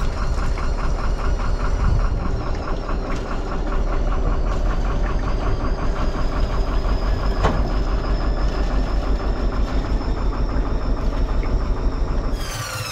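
Close, continuous sailboat engine running hot with a rapid mechanical knock and a steady high-pitched whine layered over the rumble.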